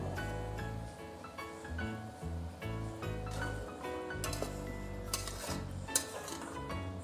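Spoon scraping and clinking in a pot while turmeric and curd are stirred into a vegetable biryani masala, steady clatter over a bed of background music.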